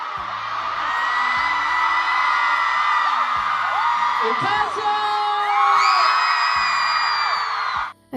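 A large concert crowd in El Paso, Texas screams and whoops continuously for the singer, a dense sustained roar of high voices with rising shrieks, while rhythmic low booms of music pulse underneath.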